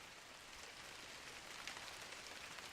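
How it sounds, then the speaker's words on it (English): Steady, soft rain falling in a forest from a rain-and-wind sound effect pack, an even, faint patter with no voices. "This looks like is an entire pack of just rain and wind."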